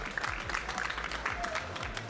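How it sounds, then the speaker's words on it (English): A crowd at the 2024 Pokémon GO Portland Regional Championships gives modest, fairly faint applause for the third-place finisher, the clapping heard over a background of voices. "Big round of applause for Kobe."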